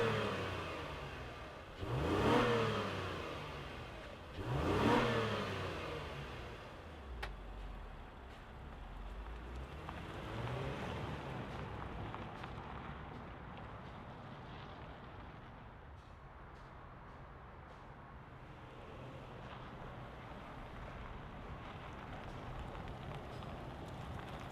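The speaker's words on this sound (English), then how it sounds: "let's fire up this V6 and hear what it sounds like" 2026 Honda Passport Trailsport V6 cranking to life with two sharp revs early on, then settling into a steady idle heard from close by, with no talking.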